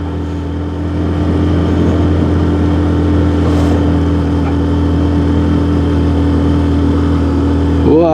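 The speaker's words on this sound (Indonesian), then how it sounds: "Ini mulai gereng-gereng gitu mesinnya motor." Motorcycle engine straining as it climbs a steep hill of about 40 degrees, a loud continuous low drone with steady harmonic hum that holds throughout at close range.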